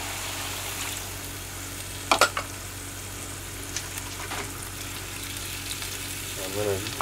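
Beef and broccoli stir fry sizzling steadily in a pan after broth is added, a soft continuous crackle with a few sharp spatters and a brief scrape near the end.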